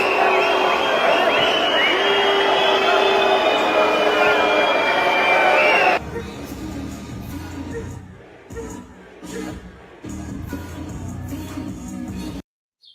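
A large concert crowd in Istanbul boos rapper Travis Scott, a loud, dense wall of jeers and shouting for several seconds before cutting abruptly to quieter, broken crowd noise and scattered voices.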